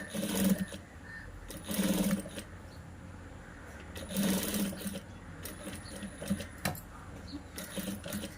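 A sewing machine stitching the neck of a blouse, running slowly in short bursts of rapid clatter separated by quieter pauses.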